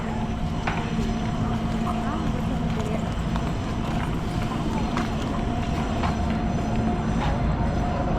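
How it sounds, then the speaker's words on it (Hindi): The Coimbatore–Mumbai LTT Express 11014 rolls into Bangalore Cantonment station with a loud, steady rumble and rhythmic wheel clatter over rail joints, station noise mixed in, while someone talks over it. "चलो, अपना ट्रेन आ गया है"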